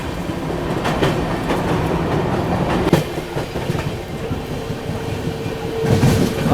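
AP Express passenger train running at night on the line near Hazrat Nizamuddin, a steady rumble with rhythmic clickety-clack of wheels on rail joints, continuous and close throughout.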